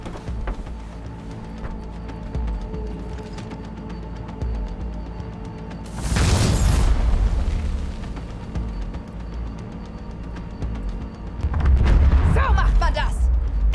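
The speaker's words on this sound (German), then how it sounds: "Nach diesem Knall kann der sich nicht in der Luft halten." Explosions striking the Kang Tao AV in the video game Cyberpunk 2077, two heavy roaring booms with rumbling tails over game ambience and dialogue.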